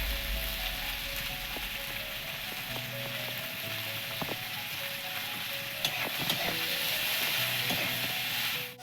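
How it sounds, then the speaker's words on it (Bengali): Onion and green chilli frying in a pan for vegetable chowmein, a continuous close sizzle punctuated by sharp clicks and taps of a spatula stirring against the pan, with no one speaking. "এবার এই যে লঙ্কাটা দিয়েছি, পেঁয়াজটা একটু লাল লাল করে ভাজা হবে"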